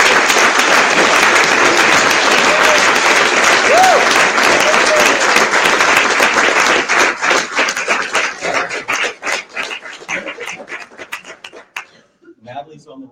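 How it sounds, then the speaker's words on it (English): An audience claps for newly published indie authors at a writers' conference in London, with dense, loud applause that thins into scattered individual claps and fades out near the end. "If y'all would give them a round of applause."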